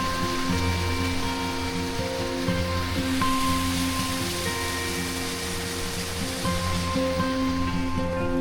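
A mountain stream, the Modi river near Deurali at about 3200 metres on a trek toward base camp, rushes in a steady broadband roar, close and loud for the whole stretch with no voices over it.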